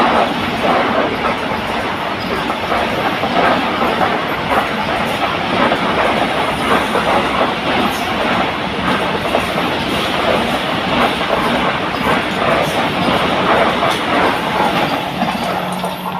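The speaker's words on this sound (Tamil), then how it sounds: "இப்போ போனவர் வந்து train number 20634 Thiruvananthapuram கசர்கோட் Vande Bharat express." The Thiruvananthapuram–Kasaragod Vande Bharat Express rushes past a station platform, a loud, continuous roar of wheels and rail clatter filling the whole stretch at close range.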